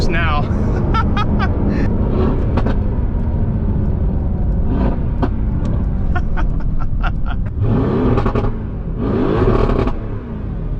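Widebody Mercedes-AMG with carbon fiber intakes and big intercoolers revving hard under boost, a loud continuous engine roar with rising and falling pitch, with people talking over it.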